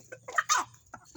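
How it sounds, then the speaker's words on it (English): Free-range backyard hens cluck in a short run of quick, close, moderately loud bursts, a few overlapping calls before a brief pause and more clucks. "Little chicken, don't you make a break for it."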